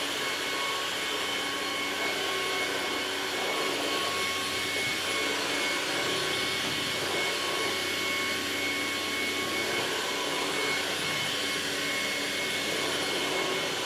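Ultenic U20 vacuum cleaner running indoors on a floor, a continuous steady motor whir and airflow hiss with faint tonal hum, close and even throughout, with no talking.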